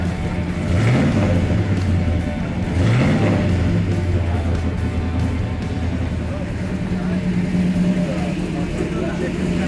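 A car engine idles with a steady low hum, briefly revving twice early on, then settling into a smooth, continuous drone.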